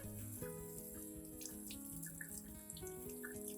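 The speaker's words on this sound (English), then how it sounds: "thoroughly rinse the entire orchid plant again with clean water" Clean water runs steadily from a tap over an orchid plant being rinsed, a continuous splashing stream with no pauses and no voices.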